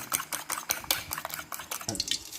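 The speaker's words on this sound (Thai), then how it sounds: "ตีให้เข้ากันเลยนะครับ" Ingredients beaten together in a bowl for a home-style Thai shrimp curry-powder stir-fry, with quick rhythmic clinking strokes of a utensil against the bowl, close and continuous.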